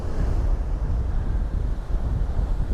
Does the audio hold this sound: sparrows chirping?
no